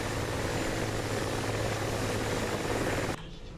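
Mi-24 helicopters in the DCS World flight simulator game, a loud continuous rotor and turbine drone with rhythmic blade thumping that drops off sharply near the end, with no talking.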